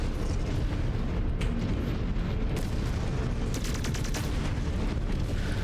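Heavy weapons fire pounding a mech cockpit in MechWarrior 5, a continuous loud roar of impacts and rumbling blasts with rapid crackling hits, no voices.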